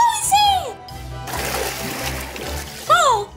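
Water splashes in a gush between a child's spoken lines, a noisy watery burst lasting about two seconds, fairly loud and close.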